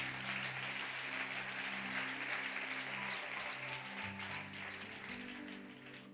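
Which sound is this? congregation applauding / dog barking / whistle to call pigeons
congregation applauding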